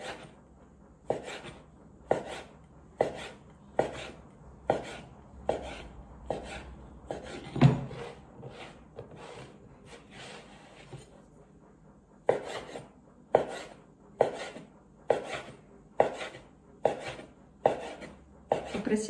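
Rhythmic knife chopping on a board, evenly spaced firm strokes in two runs separated by a brief pause with faint shuffling.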